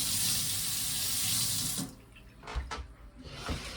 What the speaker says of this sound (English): Hot and cold water.